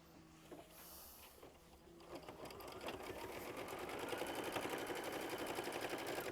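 An embroidery sewing machine stitches out a quilt block, a rapid steady needle rhythm that starts after a few quiet clicks and runs on close and continuous.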